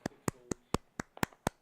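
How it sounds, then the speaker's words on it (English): A handful of people clapping at a poker tournament: seven sharp, separate claps in a quick, slightly uneven rhythm, close and fairly loud, with no crowd roar behind them. "Let's give a round of applause to all"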